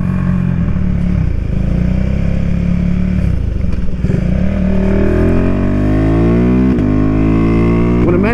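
A Husqvarna Vitpilen 401 single-cylinder motorcycle engine runs steadily and then revs upward in rising sweeps toward the end, loud and close, with no voices.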